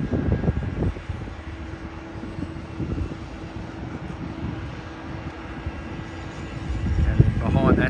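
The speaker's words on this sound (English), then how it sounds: "here comes Singapore 777" A Singapore Airlines Boeing 777 departs Sydney, heard from a distance as a steady low engine roar. The rumble holds through the clip and grows somewhat louder toward the end, with faint background sounds around it.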